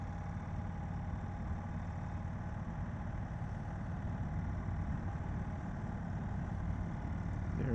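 A 2022 Indian Chief motorcycle engine in sport mode drones steadily with a low, continuous rumble, fairly faint and even throughout, swelling only slightly toward the end, with no talking over it.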